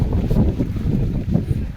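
Strong wind buffeting the microphone on a cloud-covered hill after rain, low gusty rumbles rising and falling, loud and close.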